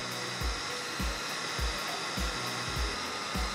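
A hot air blower heats an uncompensated oscillator device on an electronics evaluation board, giving a steady close whooshing roar with faint periodic low thumps throughout, no talking.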